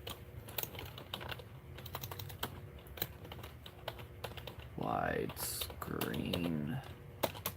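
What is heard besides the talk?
typing on a computer keyboard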